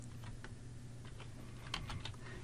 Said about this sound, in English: I'm going to type style